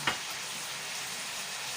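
Pork with eggplant and chayote sautés in oil, giving a steady, even sizzle that runs throughout after a brief clatter at the start.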